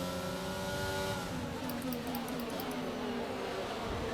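Haas F1 car with a Ferrari power unit racing in F1 22 at the Saudi Arabia circuit, a continuous high-pitched engine whine shifting pitch through gear changes, loud and sustained with faint tyre noise.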